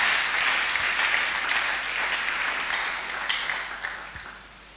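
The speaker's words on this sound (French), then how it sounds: "On acclame le Seigneur." A church congregation applauds steadily during a worship service, a dense, fairly loud wash of clapping that carries on and then tapers off toward the end.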